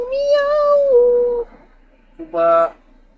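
Two drawn-out meows, the first long and wavering, the second shorter after a pause, close by with no talking.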